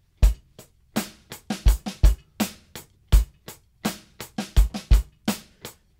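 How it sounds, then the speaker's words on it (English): A drum kit plays a steady groove of crisp kick and snare hits with tight, evenly spaced straight sixteenth notes between them, sounding even and metronomic. "I'm playing it like this, it will sound quite straight, quite metronomic"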